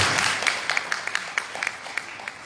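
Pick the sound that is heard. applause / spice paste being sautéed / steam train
applause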